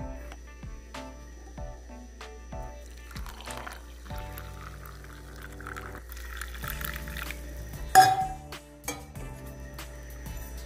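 Water poured into a cup of homemade lactose-free, decaffeinated cappuccino mix, a thin steady trickle with light clinks of the cup nearby, ending in a brief louder splash and a spoon tap.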